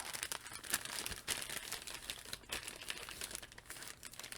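Paper baggie of accessories for a Transformers Studio Series 86 Coronation Starscream toy crinkling and rustling during unboxing, a close, continuous run of crackly handling sounds with sharper crunches.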